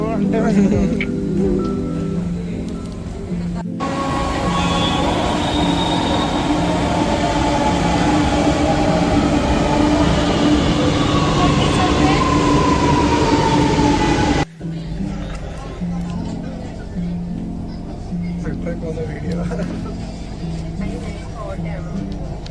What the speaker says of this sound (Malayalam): മെട്രോയില് എഗ്മോറിലേക്ക് പോയിക്കൊണ്ടിരിക്കുകയാണ്